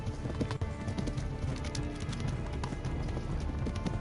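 Steady clip-clop of a horse galloping in the video game Kingdom Come: Deliverance, at a quick, even rhythm, close and fairly loud, with a faint whinny and no talking.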